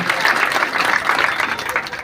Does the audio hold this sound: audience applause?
yes